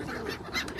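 Geese and other waterbirds honk and call at a park lake in Lurgan, Northern Ireland, a short burst of overlapping nasal honks over a faint outdoor background.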